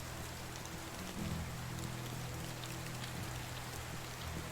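Rain pours steadily over a field in the video game Medieval Dynasty, an unbroken hiss of drops with faint low rumbling tones drifting underneath.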